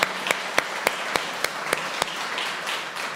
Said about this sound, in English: I want to give you all a hand clap.